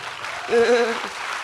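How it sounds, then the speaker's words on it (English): An audience at a talk on women in uniform claps steadily and moderately throughout, with a brief voice rising over the clapping partway through. "You can clap freely, dil se."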